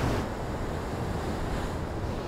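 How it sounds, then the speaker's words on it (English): Ocean waves surge up a beach as the tide rises, giving a steady, broad wash of surf mixed with wind rumble on the microphone, with no voices. "the waves are coming higher and higher"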